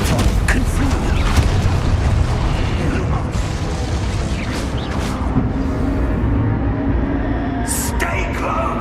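Confringo blasting curse explosions in Hogwarts Legacy combat, heavy booming bursts and crackling impacts layered densely over continuous loud battle noise and game music, with a few sharp hits near the end.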